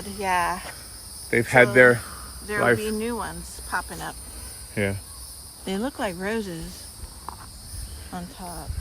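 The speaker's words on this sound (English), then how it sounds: "Park ranger told us that was the sound of cicadas." Cicadas buzz in a park: a steady high, insect drone runs throughout at moderate level beneath frequent nearby conversation.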